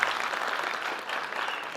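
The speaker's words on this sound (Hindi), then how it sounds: "जोरदार तालियां।" Audience applause fills a hall at a state teachers award event, a steady burst of many hands clapping together throughout.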